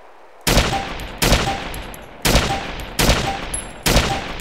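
Five loud, sharp rifle shots from a super accurate iron-sighted gun in the video game DayZ ring out at roughly one-second intervals, each with a short reverberant tail.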